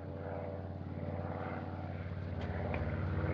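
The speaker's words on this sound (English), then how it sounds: "Gee, look at that big new plane up there." A big new airplane on a government test flight drones overhead, a steady loud propeller and engine hum with strong low harmonics running throughout without any voices.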